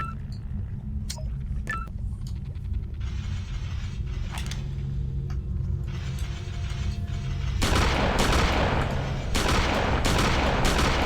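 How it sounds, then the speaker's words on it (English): A gun reloading in a Tomb Raider level editor game, with a run of mechanical clicks and ratcheting clacks followed by a louder burst of game noise, all close and without talk. "Reloading."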